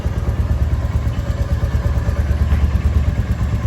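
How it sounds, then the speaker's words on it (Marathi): A motorcycle-type engine idles steadily after a cold start, a continuous low chugging rumble with a faint mechanical clatter, close and fairly loud, no voices. "माझी टुकटुक कोल्ड स्टार्ट करायला ठेवले 2 मिनटं."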